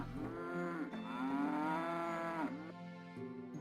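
Cattle in the Settlement Survival village-building game let out one long, loud, drawn-out moo with a wavering pitch, followed by a shorter low moo, with nothing else in the background.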